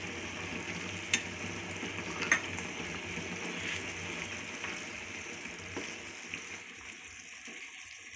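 Paneer sabji cooking in a pan with garam masala and ghee, giving a steady, fairly quiet frying sizzle with faint stirring clicks throughout, fading slightly near the end.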